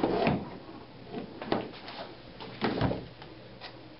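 A few close mechanical clicks and knocks as the rear takedown lever of an SKS rifle is flipped open with a cartridge, spaced irregularly over quiet room tone.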